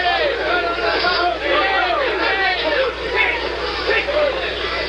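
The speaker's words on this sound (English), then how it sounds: "Jimmy Ellis' seconds and supporters in the crowd, some of them who have backed him at 4-1, are telling him to move around" Boxing arena crowd during the Frazier vs Ellis heavyweight fight, a dense roar of shouting and cheering voices that carries on steadily, with a commentator talking over it.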